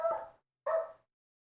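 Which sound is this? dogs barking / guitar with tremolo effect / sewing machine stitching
dogs barking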